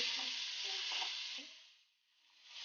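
Mixed vegetables for a mixed vegetable salan sizzle and fry in a pan. The steady broadband hiss comes with faint stirring clatter, dips briefly near the end and then swells back, with no voices.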